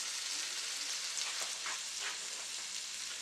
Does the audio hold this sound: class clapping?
no